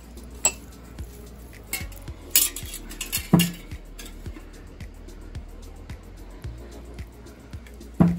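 Mango pickle pieces get mixed by hand with salt and spices, heard as scattered metal spoon clinks and scrapes against a bowl with soft wet squelches between them, close and fairly quiet.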